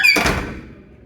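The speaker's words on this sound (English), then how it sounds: "our front door that had a hideous, terrifying, loud as squeaking noise anytime you opened or closed it" A hotel front door at an all-inclusive resort in Turkey lets out one loud, shrill squeak as it swings, followed by a dull thud and a fading tail.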